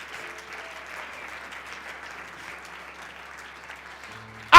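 A church congregation at an Easter service applauds and cheers in a steady, sustained wash of clapping, ending with a sudden loud burst of sound close by.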